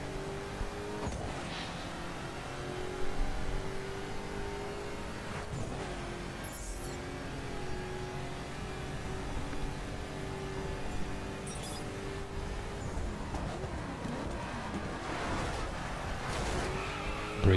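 Saleen S7 Twin-Turbo supercar in the racing game The Crew, its engine droning steadily with gear-shift surges and brief tyre or braking transients, no voices over it.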